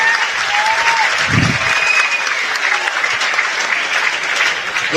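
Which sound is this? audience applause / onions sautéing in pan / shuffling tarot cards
audience applause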